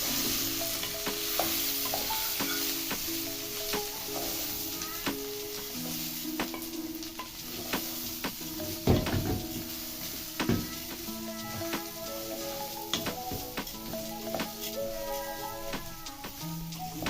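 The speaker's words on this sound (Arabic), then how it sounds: "غسلنا الرز وحطينه نشوحه شويه" Washed rice sautéing in a pot, a steady close sizzle with repeated scraping and clinking stir strokes throughout, over faint background music.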